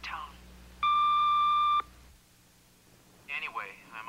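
An answering machine sounds a single steady electronic beep lasting about a second, with faint voices just before it and a voice speaking after it.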